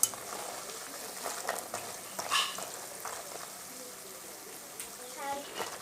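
Evening snacks frying in hot oil, a busy crackling sizzle with bubbling bursts and stirring clatter, fairly close and steady, with a few louder spits along the way.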